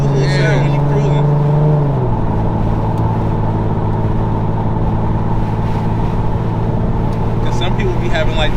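Infiniti G37 with muffler and resonator delete, exhaust idling and dropping from a brief rev to a steady deep rumble, loud and close, with people talking over it.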